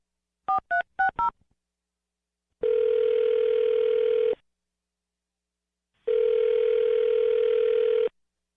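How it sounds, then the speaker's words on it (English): A quick run of touch-tone dialing beeps, then two long, steady ringback tones separated by a pause of silence. "I'm going to dial her phone number right now"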